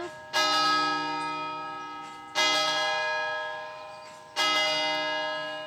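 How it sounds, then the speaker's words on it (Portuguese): Church bell tolling three times at even intervals, each loud strike ringing out and decaying slowly into the next, with no other sound. "Sino."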